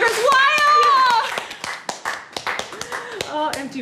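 Scattered, uneven hand claps sound close by, with a voice ringing out at the start and more voices between the sharp claps. No full crowd cheer is evident.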